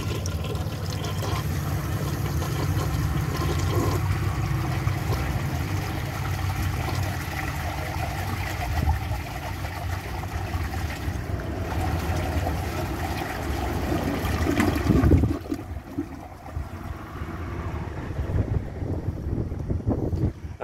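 A 1972 Kohler Wellworth toilet flushes a washcloth and a grocery bag together, making a loud, sustained rushing of water that surges around the fifteenth second and then drops to a quieter trickling gurgle.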